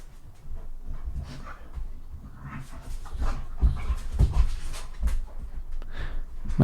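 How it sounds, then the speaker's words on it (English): Rowdy dogs pant, snort and whimper close by in a room, with restless scuffling and short yelping bursts growing busier toward the end. "my dogs are getting a little rowdy,"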